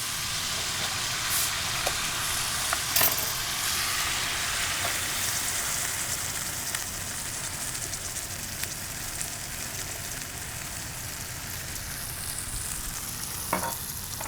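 Onions, garlic and jalapeno seasoned with salt, pepper and sesame oil sizzle steadily in a pot as Coca-Cola is poured in, a continuous close frying hiss with a few soft clinks and stirring knocks, no talking.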